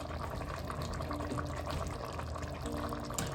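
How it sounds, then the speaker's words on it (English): Water pours steadily into a pot of aji de fideo, a continuous close splashing gush heard alone without talk. "I'll add half a cup of water"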